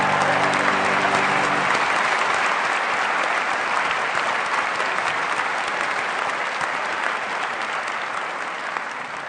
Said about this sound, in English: Once again, a round of applause for these Angel Scholars.